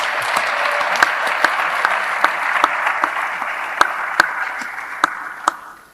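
Audience at a panel session applauds continuously, a dense wash of many hands clapping with a few louder close claps standing out, steady and then fading at the end.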